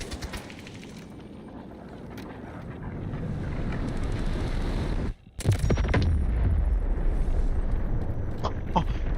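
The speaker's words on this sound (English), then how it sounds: "Requesting missile strike. Coordinates sent. Guided missiles launched." Guided missile strike explosions in the Delta Force video game: a rising rumble of wind-like roar, a brief drop to near silence, then a heavy blast followed by sustained loud rumbling with sharp crackling impacts.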